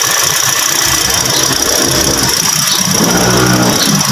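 A Toyota Vios dual VVT-i engine runs steadily at idle, a loud, continuous mechanical rumble with a faint ticking rattle, no voices.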